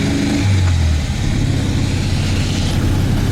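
A 1974 VW Super Beetle with a cold, air-cooled engine pulls away, loud and close, with a low engine drone that rises and shifts pitch under steady cabin rumble.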